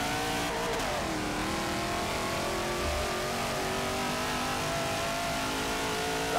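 A prototype race car in Forza Motorsport 7 accelerates hard down a straight, its engine droning steadily and rising in pitch, loud and continuous throughout with no voices.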